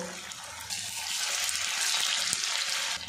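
Snacks made from flattened rice and green peas frying slowly in oil over medium heat, a soft, steady bubbling sizzle that swells slightly and stays constant throughout.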